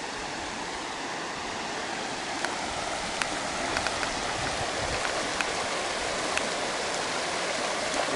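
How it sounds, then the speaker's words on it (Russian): Rushing water roars steadily and broadly, a continuous wash of flowing river noise with a few faint clicks on top. "Вот эта река, какая уже огромная, по которой мы спускались."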